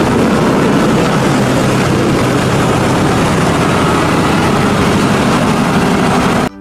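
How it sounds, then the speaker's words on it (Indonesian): A dump truck engine runs with a steady, loud, low rumble and hiss that holds unbroken for several seconds, with no voices over it. "Wow, di sini ada mobil dump truck."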